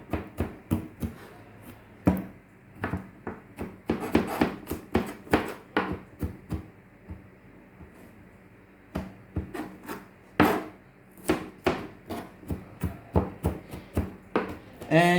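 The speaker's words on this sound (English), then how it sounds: "Chop it finely." A knife chops food finely on a cutting board, with a steady run of quick, close, fairly loud taps and a couple of brief pauses.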